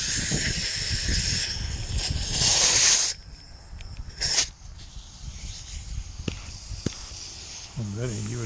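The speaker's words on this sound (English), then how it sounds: "Let's try out our pneumatic sander." A pneumatic sander is tried out, compressed air hissing loudly and steadily for about three seconds, then a short burst, followed by quieter handling noises and a person talking.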